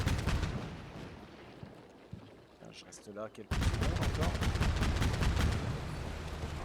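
Gunfire and artillery in the video game Combat Mission Black Sea, with distant booms and rattling shots early on, then a sudden loud burst of rapid, dense firing that goes on steadily while someone talks over it.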